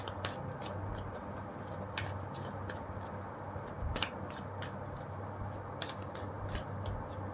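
Tarot cards shuffled and drawn from a deck, a run of quick crisp taps and flicks at an uneven pace over faint background hiss, close and quiet with no talking.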